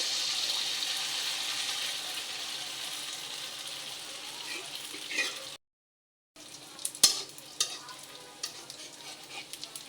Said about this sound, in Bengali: একইভাবে লাল করে ভেজে নিব